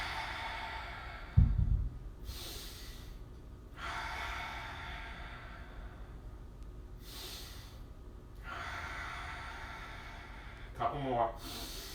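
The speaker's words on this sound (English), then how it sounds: "I'm going to do 5 deep breaths here." Deep, slow breaths during a core plank workout at home, long airy exhales and inhales repeating at an unhurried pace, close and fairly quiet, with a short snort-like breath early on.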